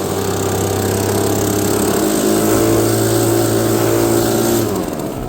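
A leaf blower drones loudly and steadily close by while blowing thatch across a lawn, its small engine tone shifting slightly partway through.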